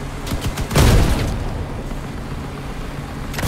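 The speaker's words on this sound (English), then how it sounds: "Cannon." A cannon in the vehicle combat game Crossout fires with a heavy booming blast that rolls into a rumbling tail, followed by scattered clanks and a second fainter impact near the end, with no speech.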